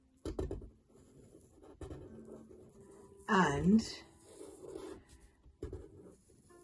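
A chiselled calligraphy pen nib scratches and drags across paper in soft, close strokes. A brief voice is heard partway through.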